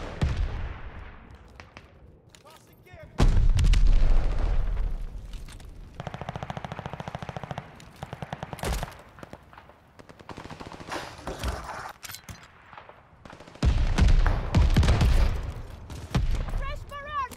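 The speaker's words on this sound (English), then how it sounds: "Fresh barrage coming." Artillery barrage in the WW2 shooter Call of Duty: Vanguard, played on PS5: loud booming bursts and rattling gunfire arrive in two heavy waves, with game voices calling out over the battle.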